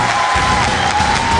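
Studio audience of a Korean TV singing competition applauds and cheers for two singers, a dense, close burst of clapping and crowd noise.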